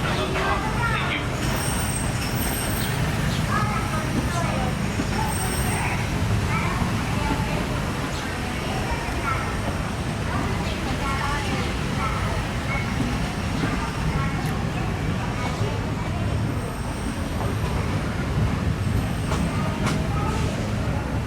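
Disneyland Railroad train on its Grand Circle Tour, a steady, loud rumble of rolling wheels and carriage noise heard from aboard, continuous throughout with a crowd murmuring underneath.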